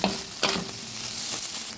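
Tuna sizzles and crackles in a non-stick Teflon pan as it browns and the liquid cooks off, with a steady frying hiss and a couple of sharp stirring scrapes near the start.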